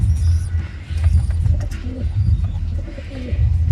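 Young pigeons coo repeatedly close by in low, throaty, rolling bursts, with a few faint higher chirps mixed in.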